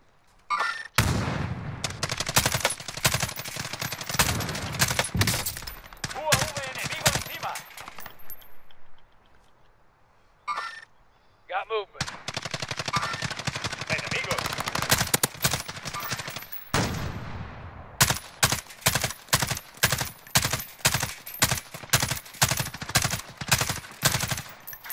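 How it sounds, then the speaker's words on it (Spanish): Gunfire in the video game Call of Duty Modern Warfare Warzone, long stretches of rapid automatic bursts, loud and close, with a brief quiet gap midway and steady single shots toward the end. "Están disparando."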